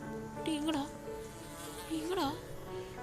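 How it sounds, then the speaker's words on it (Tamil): A mosquito in the video game Bakso Simulator buzzes in two short whining passes that rise and fall in pitch, loud and near, over a steady low game background. "கொசுவா? எங்கடா?"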